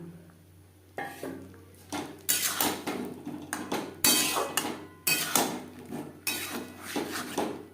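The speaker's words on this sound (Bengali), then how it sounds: "আরও তিন চার মিনিট হাই টু মিডিয়াম ফ্লেমে নাড়াচাড়া করে নেবো" A spoon stirs fried potatoes and tender green peas in a pan over high to medium flame for a vegetarian white aloo dum, giving repeated close metallic scrapes and clatters in uneven bursts, with a faint sizzle beneath.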